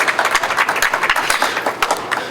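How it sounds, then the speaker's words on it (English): Audience applause after a call for a round of applause at a Palestinian Youth Movement speak-out: dense, steady clapping from a crowd, close and even, with no voices over it. "Please give them some round of applause."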